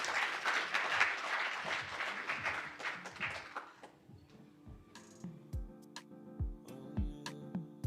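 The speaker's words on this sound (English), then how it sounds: "give them a warm welcome, round of applause as they make their way to the stage" An audience claps warmly at a bank's product launch event, a dense round of applause that thins out after about four seconds into a few scattered claps with low thumps and ticks.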